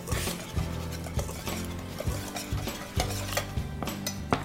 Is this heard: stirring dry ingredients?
yes